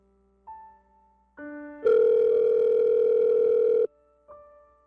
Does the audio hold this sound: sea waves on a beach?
no